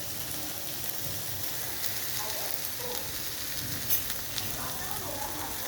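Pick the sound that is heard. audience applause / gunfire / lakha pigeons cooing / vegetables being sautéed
vegetables being sautéed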